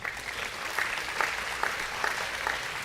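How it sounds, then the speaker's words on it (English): An audience at an agricultural appreciation event claps for a sixth-grade Grand Champion ham winner, brisk, even applause with a few sharper claps standing out. "let's give her a round of applause"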